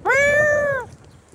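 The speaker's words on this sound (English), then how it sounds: "Is the cat singing?" A cat gives a single clear, drawn-out meow up close, rising then holding steady before trailing off, with no other sound around it.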